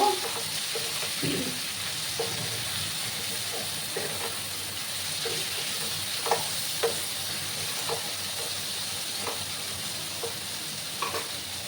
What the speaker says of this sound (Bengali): সেই আলুগুলো আবার দিয়ে দিলাম। দিয়ে ভালো করে আমি আবার মিক্স করে নেব।